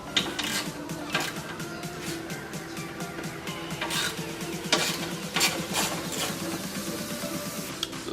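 A ratchet loosens a 10 mm window screw inside a 2015-2019 Ford Mustang door, giving rapid mechanical clicking and light ratcheting over a steady background, close and fairly quiet, with no speech.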